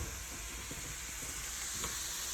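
Herbs and vegetables sautéing in olive oil give a steady, soft sizzle with faint crackles, constant and close with no talk over it.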